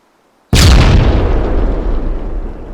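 Rocket explosion in ArmA 3, a single sudden loud blast after a moment of near silence, followed by a long rumbling decay that slowly fades, with no talking.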